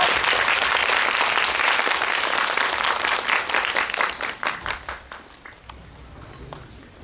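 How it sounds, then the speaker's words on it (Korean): A cinema audience at a guest visit event gives loud, dense applause for two guests, sustained for several seconds and then thinning into scattered individual claps that trail off toward the end. "네, 두 분께 큰 박수 드리면서 마무리하겠습니다."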